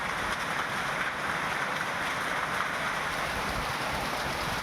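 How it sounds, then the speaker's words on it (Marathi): Heavy unseasonal stormy rain in Maharashtra pours down steadily, a dense constant hiss of drops hitting surfaces, loud and unbroken throughout. "राज्यातील बहुतांश ठिकाणी आपण बघतोय की वादळी पाऊस होतोय"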